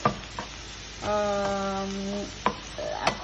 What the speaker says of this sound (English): And then you can just give it a stir, good stir.